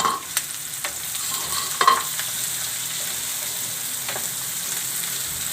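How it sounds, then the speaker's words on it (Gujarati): Chopped onion frying and hissing softly in a pan as a spoon scrapes and stirs it, with a few sharp clinks early on over a steady low sizzle, no voices. "ડુંગળી નાખી દઈશું।"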